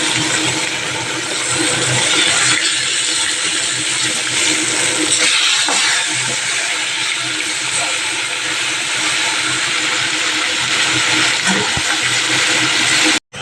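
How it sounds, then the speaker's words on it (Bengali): Fish frying in hot oil in a home kitchen gives a loud, dense, continuous sizzle that holds steady throughout and then cuts off sharply at the very end. "এই যে ভাজা হচ্ছে মাছ"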